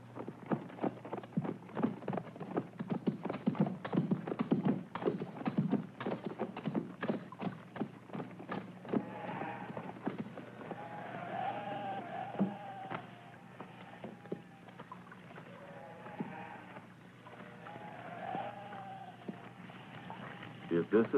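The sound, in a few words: horses pulling a cart, hooves clip-clopping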